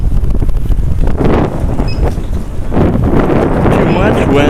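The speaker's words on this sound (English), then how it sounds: "Too much wind." Strong gusts buffet the microphone of an X250 drone during a windy test flight, a loud, constant low roar that swells and dips, with a voice faintly mixed in.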